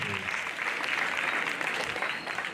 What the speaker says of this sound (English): Let us add them a round of applause.